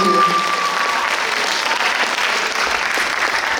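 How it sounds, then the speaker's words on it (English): Audience applause after a dance performance at an arangetram, a dense, steady wash of clapping across the whole stretch, loud and sustained with a faint tonal trace early on. "Please give her one more round of applause."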